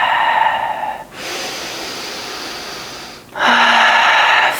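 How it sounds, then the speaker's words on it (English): Deep breathing during a power vinyasa yoga flow: a long, airy exhale of about two seconds sits between two louder breaths that bookend it, close to the microphone, with no talking. "Taking a nice breath here."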